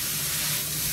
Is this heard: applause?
no